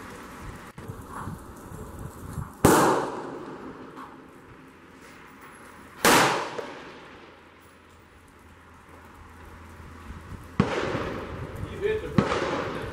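Rifle shots at an outdoor shooting range, several loud cracks with long echoing tails spread over a few seconds, with a faint background hiss between them.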